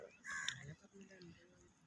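Crows caw at Varkala beach, a clear harsh call rising over a faint background of distant voices and seaside ambience.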